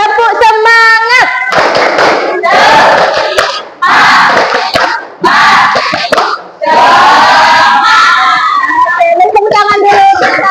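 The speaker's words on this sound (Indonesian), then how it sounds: "coba tepuk semangat" A school class performing a rhythmic spirit clapping chant, children shouting in unison between bursts of patterned clapping, loud and close, in several energetic phrases separated by short pauses.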